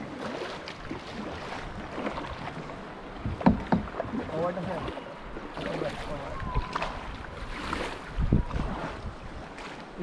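Kayak paddles dip and splash steadily through the calm water of a small lagoon at Cadlao, El Nido, Palawan, with close paddle strokes and water sloshing while people talk over them.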